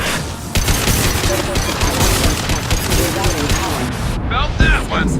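Sustained heavy gunfire and combat noise from the Mass Effect 2 video game, a dense continuous roar of shots and impacts with distorted effects near the end.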